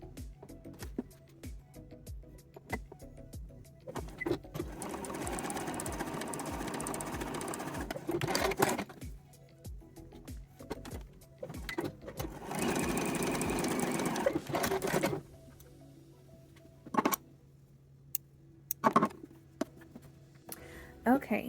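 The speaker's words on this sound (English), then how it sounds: "now we can baste the lining in place on either side here" A domestic sewing machine runs in two steady bursts of rapid stitching, about four seconds each, basting the lining of a thong, with quiet handling noises and short clicks between the runs.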